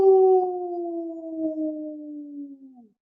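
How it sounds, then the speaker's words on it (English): A single long, steady wolf howl that slowly falls in pitch and fades out after about three seconds, clear and close with nothing else around it. "Suddenly, Codi threw his head back, and he let out a howl."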